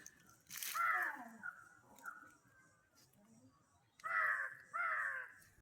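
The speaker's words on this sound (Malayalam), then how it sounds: "ഇവിടെയെല്ലാം ഫുള്ള് കാക്കയെല്ലാം വന്നിട്ട് കൊത്തുന്നുണ്ട്." Crows in a vineyard caw several times, loud and close, with rough, drawn-out calls coming in two bursts with a quiet gap between them.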